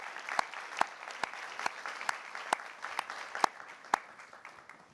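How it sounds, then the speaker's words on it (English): Audience at an annual summit applauding award winners on stage, a steady wash of clapping with sharper individual claps popping out, moderate level and continuous for several seconds. "Please give our winners a round of applause."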